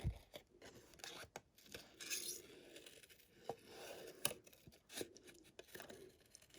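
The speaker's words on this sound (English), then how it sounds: "And then I'm just going to go in and just fussy cut this part here" Scissors fussy cutting card stock for a handmade corner tuck card, faint close snips and rustling paper in an irregular rhythm, with soft rubbing and handling noises between cuts.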